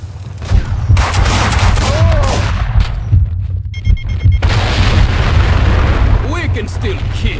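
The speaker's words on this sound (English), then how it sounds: "I was compelled to give Vlad his gun back. One bullet at a time." Rapid gunfire crackles through a Max Payne 2 shootout, dense bursts of shots layered over a rumbling low end with scattered voices shouting underneath.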